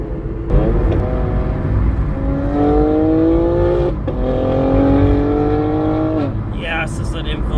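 A BMW M4 engine revs hard through rising gear pulls, loud and close from inside the car, with a brief dip between pulls and people talking over it.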